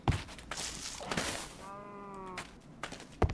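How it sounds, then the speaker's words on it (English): Heavy knocks from a door knocker in a horror video game: thudding hits near the start and end, with a brief eerie tonal sound ringing in between over a dense game ambience. "That was the knocker sound."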